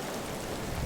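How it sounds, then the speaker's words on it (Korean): Steady rain falls in an even, dense hiss, continuous and moderately loud with no break, and no voices. "빗소리 말고 아무런 소리도 들리지 않아요."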